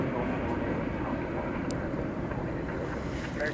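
An airliner departs DFW Airport for Melbourne at night, its engines a steady broadband roar heard from a distance with wind rumble across the microphone.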